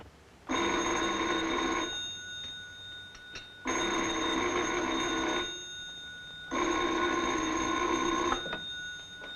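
Old-fashioned telephone bell in a 1943 film rings in three long bursts separated by short pauses, clear and fairly loud, with no voices.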